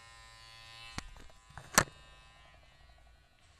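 An electric trimmer cuts beard on the side of a face at home. A steady faint buzz and hum carries a few sharper clicks and brushes of contact, heard close with no talking.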